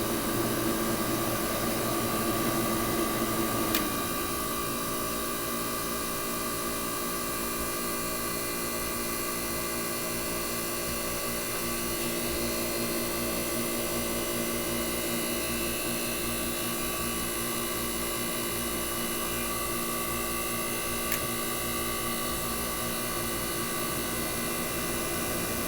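A Weather Wheel air conditioner with a Tecumseh AJ compressor running, a constant low mechanical hum and drone with a faint fan whoosh, a click near the start and another later, steady throughout.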